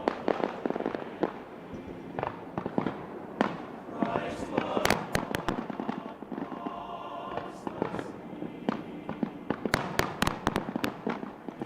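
Fireworks and firecrackers burst during a Fourth of July celebration, a rapid string of sharp cracks and pops, some close and loud, others scattered, over a steady crackling din with a voice talking at times.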